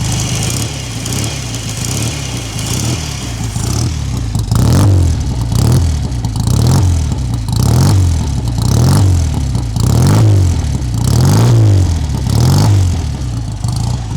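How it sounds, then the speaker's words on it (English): A BSA Rocket Gold Star motorcycle engine, restored, runs steadily at idle, its rhythmic thumping swelling with occasional light revs, loud and close with no talking. "Really smooth engine. Let you have a little listen."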